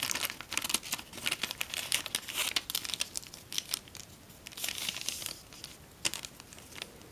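Paper crinkles and crackles as a sheet is folded in half for an origami dog, close and fairly quiet, with bursts of crisp rustling spread across the whole stretch and no talk.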